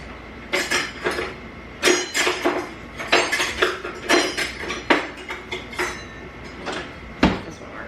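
A knife struggles through a hard block, making a series of sharp, irregular knocks and clinks against the board, close and fairly loud, with short gaps between strikes.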